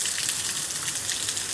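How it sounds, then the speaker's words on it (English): Steady rain patters and hisses on a surface in Phoenix, Arizona, a constant fine crackle with no voices. "Yeah, it's raining again."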